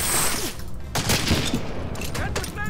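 In Medal of Honor Allied Assault, a grenade goes off in a loud, broad blast amid dense battle noise, followed by further booming bursts and scattered gunfire close by.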